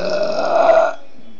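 A baby burps once, a drawn-out, moderately loud eructation close by that lasts nearly a second, then stops abruptly into quiet.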